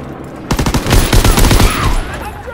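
Rapid bursts of automatic gunfire ring out in the World War II shooter game Call of Duty WW2, a loud, dense rattle of overlapping shots lasting about two seconds before fading into a quieter tail.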